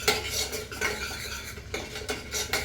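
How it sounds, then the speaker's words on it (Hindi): A utensil stirs plain tomato puree being tempered in a pan, with a steady run of close metallic scrapes and clinks against the pan and a faint sizzle underneath. "नॉर्मल टमाटो प्यूरी में छौंक रही हूँ"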